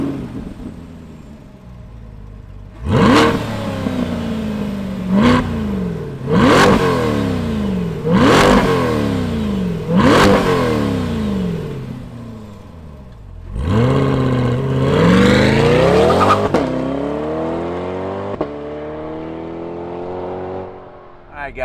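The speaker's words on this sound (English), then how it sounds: "Let's fire up the C8 Corvette convertible and hear what it sounds like" A 2020 Corvette C8 Z51 convertible sports car engine fires up, then revs sharply several times in a row, each rev climbing and dropping, ending with a longer rising rev before settling to idle.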